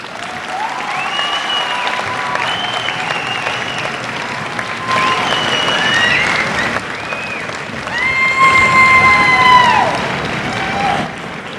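An indoor award-night audience applauds parents in a sustained wash of clapping with scattered cheers, loud and full, while whistle-like tones and voices rise over the crowd.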